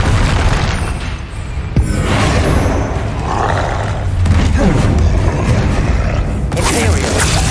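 Confringo fire-spell blasts in the Hogwarts Legacy game erupt as loud booming explosions in a dense, continuous battle din, with a sharp burst near the start and rumbling impacts throughout, while a voice shouts spell names over the action.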